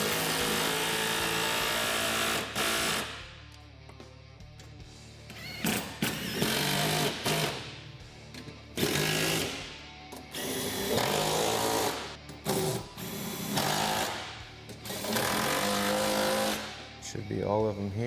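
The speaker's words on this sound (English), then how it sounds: "Now you're just going to go through and fully tighten all the hardware on the rear portion of the skid." A power tool tightens skid plate hardware on a Honda Talon 1000 UTV, running in repeated short bursts with pauses between them while someone talks throughout.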